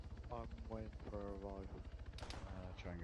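Rapid automatic gunfire in the video game Arma 3, aimed at a helicopter pilot, rattles continuously as a steady stream of shots under a voice talking throughout.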